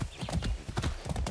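Horse hooves clip-clop in a steady quick rhythm while riding in Far Cry 6, close and prominent game sound with a low rumbling background.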